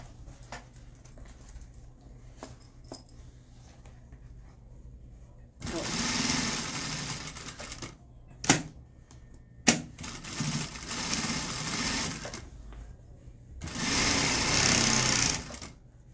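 Sewing machine stitching a crossbody bag with a backstitch, running in three loud sustained bursts separated by pauses and sharp clicks, close up after a quiet stretch.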